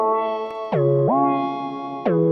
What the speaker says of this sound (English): It's a classic short reverb though